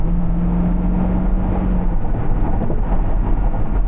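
A C5 Corvette's engine and exhaust roar steadily under hard acceleration, a dense, continuous low rumble heard from inside the car with no talk over it.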